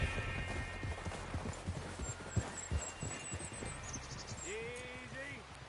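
Horse hooves in Red Dead Redemption 2 clip-clop in a steady rhythm over a low ambient rumble, with faint chirps and a short whinny-like call near the end.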